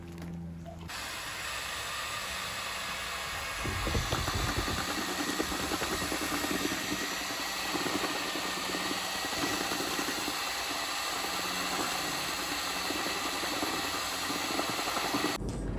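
A wort chiller runs after the boil while brewing an English dark mild beer, giving a steady mechanical hiss and hum with a pump-like drone that steps up louder after a few seconds and continues alone.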